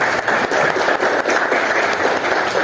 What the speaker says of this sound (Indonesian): tepuk tangan pada teman kalian dulu